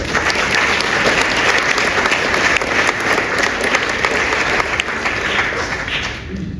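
A large audience at a literary prize ceremony applauds steadily and loudly throughout, a dense wash of clapping with no break.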